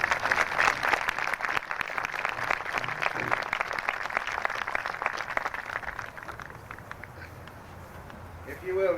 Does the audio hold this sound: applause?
yes